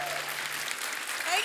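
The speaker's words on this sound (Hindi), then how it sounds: "जोरदार तालियां" Studio audience applause on a Hindi comedy talk show, a dense steady wash of clapping filling the whole stretch, loud and close, with faint voices underneath.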